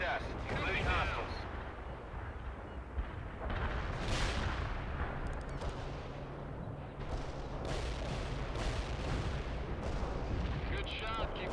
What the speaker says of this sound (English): We need Artillery barrage hit with full effect.